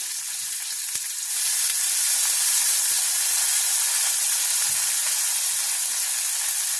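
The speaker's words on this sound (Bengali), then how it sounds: "এবার এর মধ্যে আমি ভিনেগার দিয়ে দিচ্ছি, 1/2 চামচ ভিনেগার দিচ্ছি।" Half a spoon of vinegar hits a hot pan of lightly fried capsicum and onion, jumping into a loud, close hiss and sizzle that then holds steady for several seconds with no talking.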